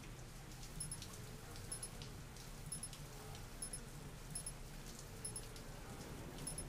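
Soft, steady rain patters in the background of a video game with faint recurring ticks and clicks, quiet and continuous, no one speaking.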